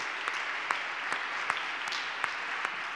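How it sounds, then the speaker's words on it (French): Audience applause at an evening business trophy ceremony, a steady wash of many hands clapping at moderate distance, with a few sharper individual claps standing out. "Vous pouvez l'applaudir encore une fois"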